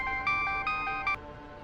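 A telephone ringtone plays in bursts of bright repeating electronic tones, loud and close, with no talk over it.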